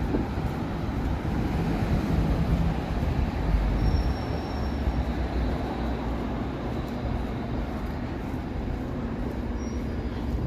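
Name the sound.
subway train ride in Toronto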